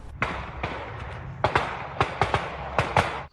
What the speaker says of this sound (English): And brother-in-law Dallas isn't picking up bullets, but rather the sounds of gunshots.